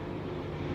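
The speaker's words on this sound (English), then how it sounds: "Oh, that's a helicopter." A steady, low rumbling drone of a helicopter, continuous and fairly distant, with no voices.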